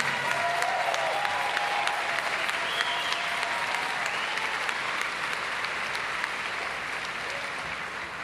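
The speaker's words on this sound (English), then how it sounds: "Give Santita a great round of applause." A funeral congregation gives Santita, daughter of Rev. Jesse Jackson, a sustained round of applause, dense and steady throughout with no break.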